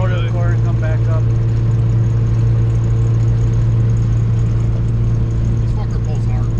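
A Honda fitted with Camaro fuel injectors roars under hard acceleration, a loud sustained engine drone heard from inside the car with faint voices mixed in.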